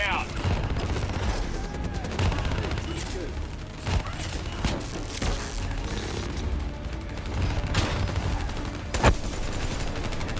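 Gun turret fire in Call of Duty Black Ops 3 roars through a dense combat mix, with sharp reports and clattering bursts layered under voices and sound effects.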